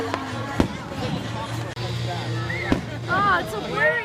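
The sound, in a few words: fireworks exploding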